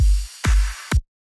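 Drum rack clap nudged slightly ahead of the kick in Ableton, producing a flam, three punchy, loud, close hits with the clap smeared just before each boom, then silence.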